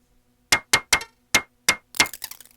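Korg Volca Sample playing an effect that resembles the Volca Drum waveguide: five sharp metallic, ringing struck tones in an uneven rhythm, then a final hit that rings out and breaks into rapid decaying echoes.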